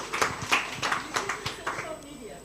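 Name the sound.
round of applause at business workshop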